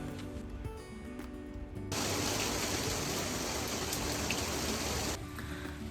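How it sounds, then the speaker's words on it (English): Heavy mountain rain pours down steadily in Slovenia's Triglav National Park, a dense, loud hiss that swells suddenly after a quieter start and continues without letup. "It was pouring rain."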